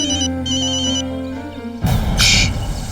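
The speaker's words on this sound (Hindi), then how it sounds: "तुम्हारे भाई का फोन है" A phone rings with a melodic electronic ringtone, close and steady for almost two seconds, before it cuts to a louder burst of background noise.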